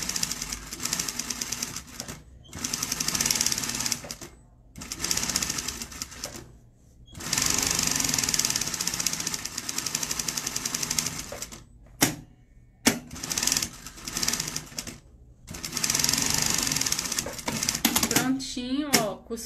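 A sewing machine stitches a crossbody bag in several fast, loud bursts of rattling needle action, separated by short pauses and handling noises.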